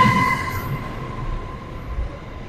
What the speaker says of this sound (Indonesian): Saat ini saya ada di rel kereta api dan di belakang ini ada kereta